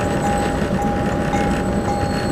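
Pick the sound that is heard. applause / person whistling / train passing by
train passing by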